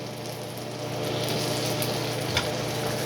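Black bean burger frying in oil in a pan, a steady close sizzle throughout with a soft knock partway through.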